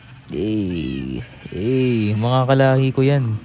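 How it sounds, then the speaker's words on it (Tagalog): A pet cat meowing in several drawn-out, rising and falling cries, close and loud, with a person speaking briefly alongside. "Yan ang pusa niya."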